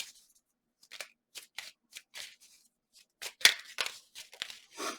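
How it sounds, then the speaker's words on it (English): Tarot cards are shuffled by hand in several short, crisp riffling bursts, close and fairly soft, with brief silent gaps between the flurries of papery flicks. "Wow, too many cards came out. I'm going to shuffle."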